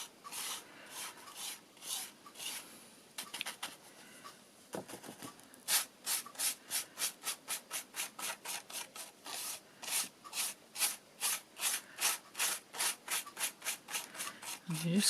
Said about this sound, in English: You just keep brushing until there's no excess powder anywhere